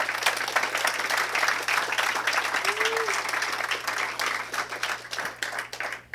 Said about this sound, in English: So if we would give a round of applause to these two young ladies.